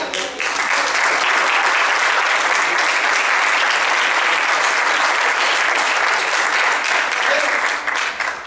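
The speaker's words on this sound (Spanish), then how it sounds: "Trae palmas al Señor." A church congregation claps steadily in a dense, loud wash of applause that stays even from start to finish with no voices coming through.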